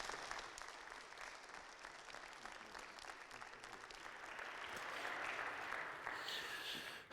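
Sustained audience applause fills a hall as a university lecture-series speaker is welcomed, dense steady clapping lasting several seconds at moderate, even loudness with no talk over it.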